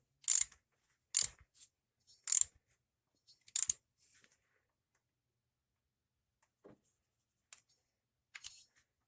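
A wrench snugs a bolt on an AMC 360 timing set, giving a series of sharp, close metallic clicks and ratcheting ticks in irregular bursts. Quieter taps follow with gaps between them.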